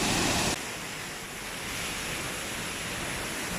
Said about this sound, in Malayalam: വെള്ളം ഇങ്ങനെ വീഴുന്നു ഒപ്പം ഡ്രിസ്ലിംഗ് ഇങ്ങനെ അടിക്കുന്നുണ്ട്